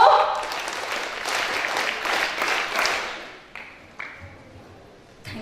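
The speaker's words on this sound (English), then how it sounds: "Yes, claps go." Children applaud at a school science day event, a dense burst of clapping from a crowd that fades out after about three seconds, leaving a few isolated taps.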